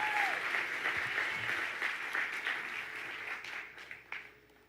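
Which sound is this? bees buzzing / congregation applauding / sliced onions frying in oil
congregation applauding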